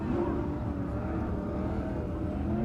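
Race cars rev and gas it up with some wheel spin at Grays Harbor Speedway, a steady moderate engine drone heard from a distance, fairly faint and continuous.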